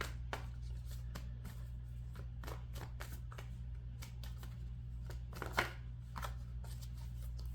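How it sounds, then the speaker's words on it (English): Tarot cards are shuffled steadily, a run of quick riffling flicks and soft taps over a low constant hum, with no talking. "I'm still shuffling your cards."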